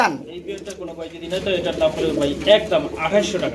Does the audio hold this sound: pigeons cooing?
yes